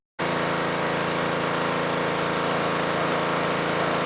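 A Troybilt pressure washer engine starts abruptly after a brief silence and then runs at a steady, loud, high-pitched drone with an even mechanical buzz, unbroken to the end.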